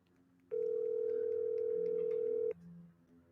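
A steady telephone dial tone sounds alone for about two seconds, loud and unbroken, while a prize winner is being called, then stops abruptly with faint room sound around it.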